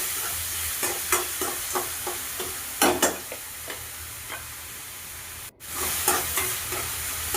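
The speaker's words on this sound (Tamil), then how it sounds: "சேர்த்து நல்லா வெங்காயம், தக்காளி எல்லாமே நல்லா பேஸ்ட் கணக்கு வர்ற மாதிரி நல்லா வதக்கி எடுத்துக்கலாம்." Onion and tomato for a village-style bean curry sizzle steadily in a pan, with repeated spatula scrapes and stirs in a loose rhythm and a short pause near the end, close by and with no talking.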